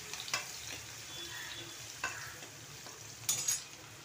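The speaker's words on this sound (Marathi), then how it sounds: "तेलामध्ये चांगले ना फ्राय होऊन द्यायची" Green chilies fry in oil, a quiet continuous sizzle broken by a few distinct scraping stirs against the pan, close by.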